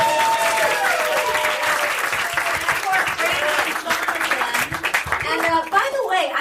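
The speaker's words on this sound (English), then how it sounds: "Definitely a big round of applause for Mike Bassano and Steph the" Enthusiastic audience applause at a live storytelling game show, loud and continuous for over six seconds. Cheers and voices rise through the clapping.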